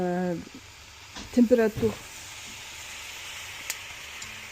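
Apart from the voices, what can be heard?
ice cube sizzling in hot oven for sourdough bread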